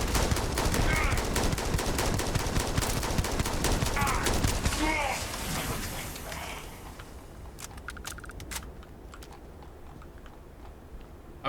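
Rapid automatic weapon fire in the video game Starfield, loud and continuous for several seconds before thinning to a few scattered shots.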